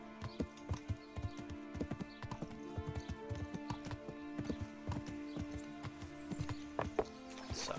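Pebbles the horse walking in Kingdom Come: Deliverance, distinct hoof clops landing in an uneven, unhurried rhythm close by, backed by sustained musical tones and no speech.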